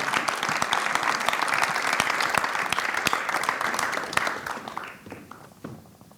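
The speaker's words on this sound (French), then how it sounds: "je vous propose de les applaudir bien fort" A live talk audience at the Ch'ti TaidX 2021 event applauds loudly, a dense crackle of many clapping hands that holds steady for several seconds, then thins out and tapers to scattered claps near the end.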